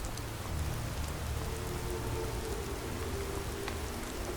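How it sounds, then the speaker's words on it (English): Steady rain pours in an open-world fantasy role-playing game, a dense continuous hiss of falling water that stays loud and even throughout, with no voices over it. "we may have to find some place to get in out of this rain."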